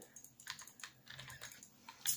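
Rapid, light clicking, continuous and close, from computer input during Minecraft play, with irregular bursts and faint background.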